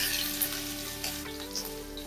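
Crushed garlic and green chili paste frying in oil with mustard seeds and cumin for a village-style tandulja greens dish, heard as a steady moderate sizzle with small pops throughout, without talk.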